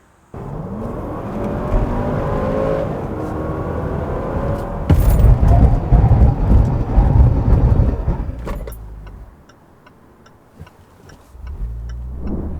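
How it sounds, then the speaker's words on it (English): Supercharged 5.0L V8 Range Rover Autobiography long-wheelbase SUV braking to a stop, with loud road and engine rumble and some tire noise that fades out abruptly, followed by quieter cabin sounds. "why don't we check out the braking performance of this Range Rover with 5-liter supercharged V8"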